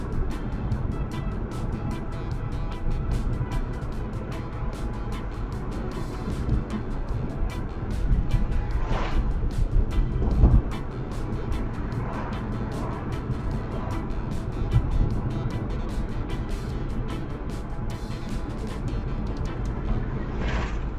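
A car drives along a road in Portmore, Jamaica, its steady engine and tyre rumble continuous and fairly close, with occasional louder swells and passing noises.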